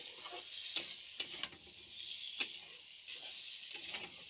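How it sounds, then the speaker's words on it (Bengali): Pre-fried taro (gathi kochu) pieces cook in a pan with spices, stirred so the spoon scrapes and clicks in sharp strokes over a continuous gentle sizzle, close up and without talking. "ভেজে রাখা কচুগুলো দিয়ে আর একটু সময় কষিয়ে নেব মশলার সাথে খুব ভালো করে।"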